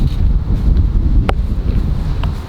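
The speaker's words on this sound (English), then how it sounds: "Oh, it's pretty breezy out." Breezy outdoor wind buffeting a microphone, a steady low rumbling roar with gusty swells lasting the whole stretch, loud and close with no one talking.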